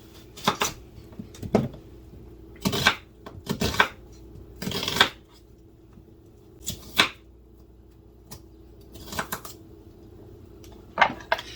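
Sharp knife chops through potatoes on a cutting board, close and crisp, coming in irregular single strikes and short bursts with quiet gaps between.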